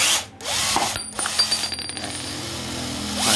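A Japanese cordless drill with 21 torque settings and a drill mode whirs and rattles close by, with clicky mechanical bursts and a continuous motor buzz alone.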